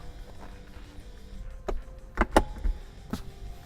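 A limited-edition car's convertible top lowers and latches into place at a dealership: a few sharp mechanical clunks and clicks close by, the loudest pair clustered mid-way, over faint low motor hum, no voices.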